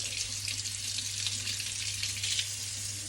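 Tap water running steadily over a child's hands at a sink, a constant hissing splash with a low background hum, close and uninterrupted, no talking.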